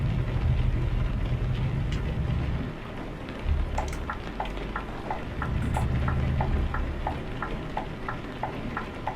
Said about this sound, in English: Now when it's raining it is a little bit harder to see